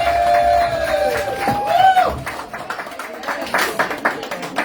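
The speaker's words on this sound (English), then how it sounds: "give Trisha and Alicia a huge round of applause" Rally crowd in St. John's clapping and cheering, loud and close, with shouts and whoops rising over a dense bed of applause that swells and then continues in uneven bursts.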